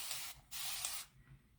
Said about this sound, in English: Give it a little another spritz of water here.